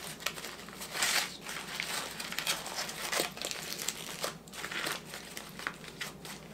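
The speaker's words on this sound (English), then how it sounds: "I'm going to fold this up to where this one will be all in the foil" Aluminum foil being folded and crumpled around garlic for roasting, a close, continuous crinkling and crackling with sharp bursts throughout, no talk over it.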